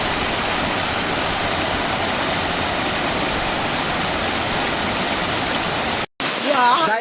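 Rushing floodwater from a hill flash flood roars through the main gate of Madhutila eco park in Sherpur, a loud, unbroken wash of water that cuts out abruptly near the end before a brief, different sound.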